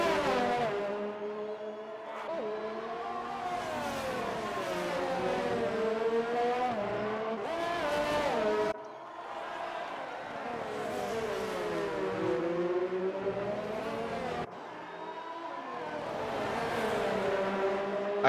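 Formula 1 cars racing in the video game F1 2019, with Red Bull cars battling for position. The high-pitched engines rise and fall through gear changes, sustained and fairly loud with occasional abrupt cuts.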